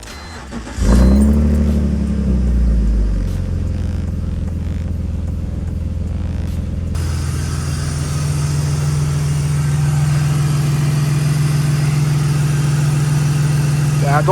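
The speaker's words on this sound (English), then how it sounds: "So now let's go ahead and turn on the car and see if anything's different." A BMW E46 engine, fitted with a secondary air pump delete, cranks and catches about a second in, then settles into a steady, even idle that hums on at close range for the rest of the clip.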